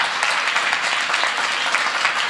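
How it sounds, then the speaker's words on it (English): An audience at a New Year's Day celebration claps together in sustained, dense applause, loud and close and steady throughout, with no voices over it. "Give her a big round of applause."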